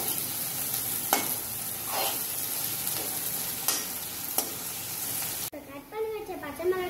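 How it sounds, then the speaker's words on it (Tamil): Onions and crushed garlic sauté in a pan for prawn gravy, giving a steady close sizzle with a few sharp stirring clinks and scrapes; near the end the frying drops and a brief voice is heard. "வெங்காயத்தை நல்லா வதக்கிக்கோங்க."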